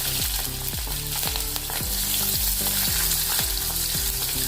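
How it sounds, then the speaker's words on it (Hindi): Cumin seeds and onion crackling in hot oil in a pan while making aloo pulao, a loud steady sizzle with repeated knocks and scrapes of a spoon stirring against the pan. "अभी इसमें जीरा डालेंगे आधा चम्मच, फिर प्याज डालेंगे,"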